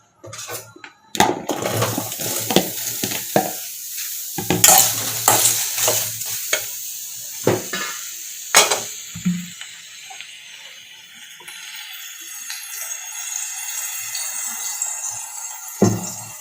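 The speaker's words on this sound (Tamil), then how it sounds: "இப்போ நாம் கழுவி வச்சுருக்க மஷ்ரூமை லைட்டாக எண்ணெய் விட்டு வதக்கிக்கலாம்" Mushrooms sautéing in oil in a kadai, with loud clattering stirs and scrapes packed into the first half, then a softer steady sizzle with only occasional knocks.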